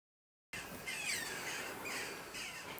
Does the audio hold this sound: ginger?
no